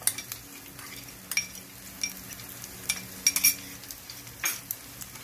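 Onions fry gently in about three tablespoons of hot oil, a soft, steady sizzle punctuated by light scraping and tapping of a spoon against the pan.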